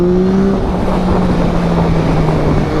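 A 2021 Yamaha MT-09 motorcycle engine roaring loud and close, its steady drone rising slightly in pitch as the throttle is twisted, heavy wind rush over the sound and no speech.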